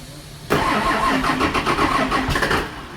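A car engine with a suspected fault fires up abruptly and runs loud and close, its pitch rising and falling unevenly as the throttle is blipped.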